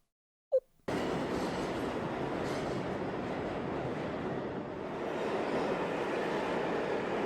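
A brief click, then a continuous rumbling ride on a line 19 train in a video game, with steady rolling noise, fairly loud and unbroken to the end.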